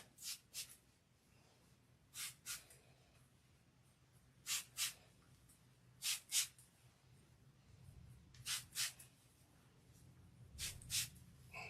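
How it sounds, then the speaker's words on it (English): A spray bottle spritzing hair locks in quick pairs of bursts, repeated several times with pauses between, close and soft against a quiet room. "I am going to spray them because they're drying out."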